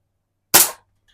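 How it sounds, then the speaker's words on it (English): A single sharp shot from a 1966 Walther LP53 target air pistol, loud and close, a brief crack that decays within a quarter second before silence returns. "We'll shoot a couple more shots at that."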